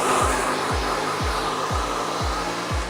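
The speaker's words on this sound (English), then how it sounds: "use the heat from the blow dryer" A blow dryer dries and lifts a man's freshly cut hair in a salon, giving a loud, steady airy roar that carries through the whole stretch, with a faint low pulse repeating about twice a second.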